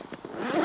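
A quick zip on a VIKTOS Perimeter 25 EDC backpack, a short ratcheting rasp of teeth close to the mic, rising slightly in loudness over less than a second.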